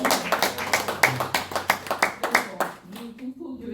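A church congregation at a monthly meeting worship service claps steadily in a rhythmic, fairly close run of about twenty claps, then stops and a voice speaks.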